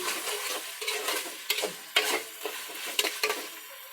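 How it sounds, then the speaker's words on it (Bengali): Ginger, garlic, bay leaf and garam masala fry in oil in a pan on a gas stove while a spoon stirs them, giving a soft continuous sizzle broken by a series of scraping strokes. "ভালো মতো নেড়ে নিচ্ছি"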